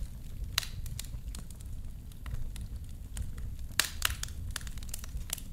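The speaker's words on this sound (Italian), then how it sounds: "rumore del fuoco all'aperto" An outdoor fire crackles and pops steadily, with sharp irregular snaps over a dense low rumble, close and fairly loud, no voices.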